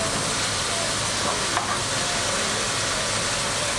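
Mushrooms cook in a pan over raised heat as their water boils off, making a loud, steady, close sizzling hiss that runs unbroken throughout.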